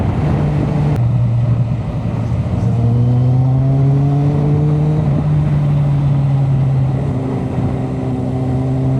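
A motorcycle riding along a road in a group ride, its engine droning loud and close with rising and falling pitch as it shifts gears and accelerates, with no talk.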